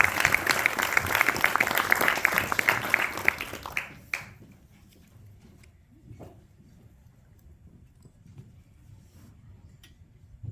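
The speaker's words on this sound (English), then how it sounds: "Started right away with a big old round of applause." A burst of loud applause from a crowd for about four seconds, then it cuts off, leaving a quiet room with faint scattered noises.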